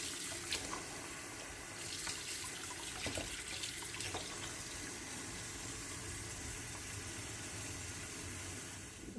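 Tap water runs into a sink with soap while a Carbinox Blaze smartwatch is washed. The stream is steady and fairly quiet, with a few soft handling bumps, and no voices are heard.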